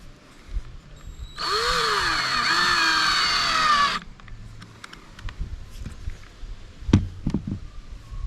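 A power drill whines steadily for about two and a half seconds while backing screws out of an RV roof, loud and close, followed by scattered clicks and knocks.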